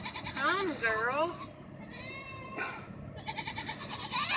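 Goats bleating loudly in the rain, with several loud, wavering cries close by over a steady patter of rainfall.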